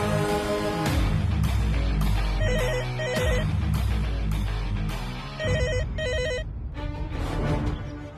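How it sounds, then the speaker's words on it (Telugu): A telephone rings loudly and insistently in a household scene, repeated electronic ring bursts in a steady rhythm over several seconds, close and alone without talk. "ఫోన్ మొత్తుకుంటా ఉందే"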